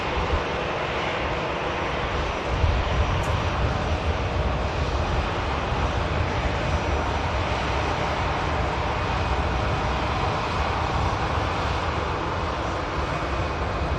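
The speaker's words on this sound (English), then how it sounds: "The Airbus A320 on the taxi out, heading back to Belgium." A Brussels Airlines Airbus A320 in Star Alliance livery taxis out at Manchester Airport, its jet engines producing a constant, heavy, distant roar with a low rumble that stays level throughout, with no voices.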